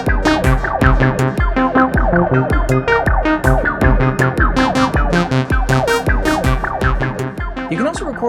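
Oxi E16 synthesizer sequence with resonance automated to move opposite the filter cutoff, a loud, busy rhythmic pattern of plucked tones and percussive hits whose brightness shifts throughout, steady and alone.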